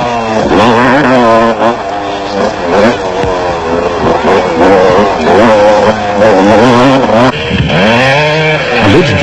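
Off-road racing motorcycles roar through the 1994 Roof of Africa race in Lesotho, engines loud and close with repeated revving and shifting throttle surges, no talk.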